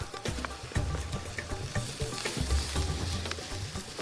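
Red onions and ginger sizzle in oil in a hot pan, a steady close frying crackle broken by a few stirring knocks.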